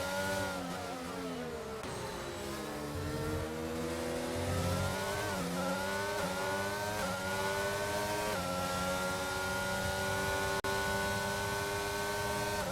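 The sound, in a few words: Formula 1 race cars driving in a racing video game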